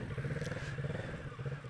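Motorcycle engine revving in repeated pulses during slow-speed riding practice, a low, throbbing drone that rises and falls, heard from a short distance and fairly quiet, with no talking in this stretch.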